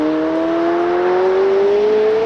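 A McLaren 720S Spider on standard tyres accelerating hard, its engine note rising steadily as a loud, continuous drone with whooshing wind and road rush across the whole stretch, no talking.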